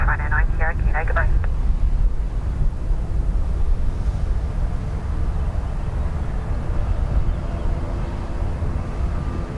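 A jet airliner at Dublin Airport roars steadily down the runway on takeoff, a loud, continuous rumble with wind buffeting, while a radio voice briefly chatters at the start.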